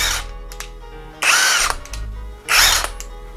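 A SeeSII 3-in-1 cordless drill and impact wrench runs in two loud, close bursts of whirring motor. The bursts are separated by lower idle whine and short clicks, with no talking.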